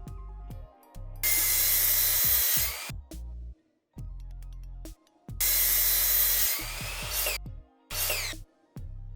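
A power saw cuts a 21-inch section of wood in bursts, loud whining passes of about two seconds each with a rising pitch, broken by short pauses and a final brief cut.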